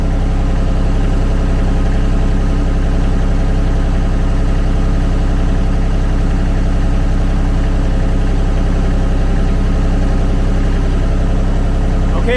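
A Kubota D1105 diesel engine in a Kymron XTL30 machine idles steadily and loudly up close, a continuous, even rumble with a constant vibrating drone and no change in pace.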